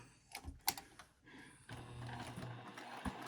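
A sewing machine stitches a wristlet clutch pocket, a few quiet clicks and then a steady low motor whir running close.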